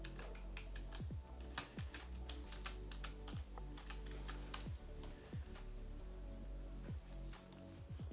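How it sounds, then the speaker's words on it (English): Irregular keystrokes tap on a computer keyboard, fairly faint and close, over a steady low electrical hum, with short pauses between bursts of typing. "Then let's type"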